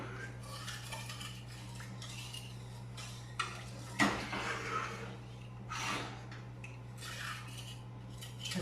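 A spoon stirring pineapple cake mixture in a bowl, with soft repeated scraping and light clinking against the bowl over a steady background hum, including one sharper knock partway through.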